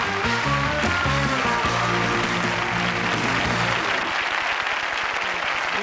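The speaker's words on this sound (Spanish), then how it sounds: "ahora vamos a recibir con un aplauso a Rubén." A television studio audience claps to welcome Rubén, a child impersonator, on a Spanish show. The applause continues steadily under loud band music, and the music drops away near the end.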